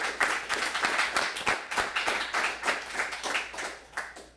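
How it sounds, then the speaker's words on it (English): Graduation-ceremony audience for an executive protection security course applauding family and friends, steady light clapping from a modest crowd, fairly faint and distant, with no talking. "So give them a round of applause for supporting"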